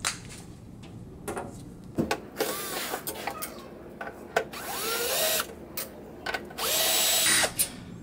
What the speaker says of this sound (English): we're going to take out these four sheet metal screws with either the nut driver or the quarter inch bit